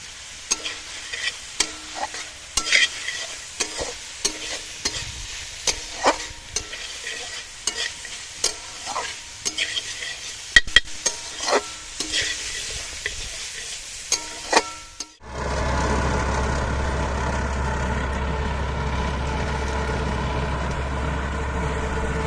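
Carrots and beans fry for chicken soup with close sizzling and a run of clicking stir strokes. After about fifteen seconds it cuts to a steady low engine drone.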